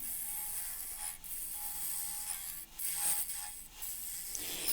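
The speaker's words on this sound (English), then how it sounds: "I'm just going to use the Ellsworth gouge here to cut this tenon" A bowl gouge, the Ellsworth type, takes aggressive cuts on a wood lathe to shape a tenon on a snowball-branch and walnut blank, giving a steady scraping hiss with a few brief breaks. No one speaks.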